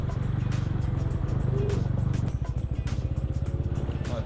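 A TVS Ronin motorcycle riding on a road in Bali, its engine thrumming steadily up close with a rhythmic pulsing beat and wind noise throughout.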